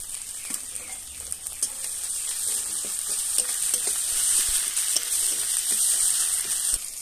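Ginger garlic paste frying and sizzling in hot oil as a curry base for rohu fish kofta, a steady close crackle with occasional stirring clicks, no voices.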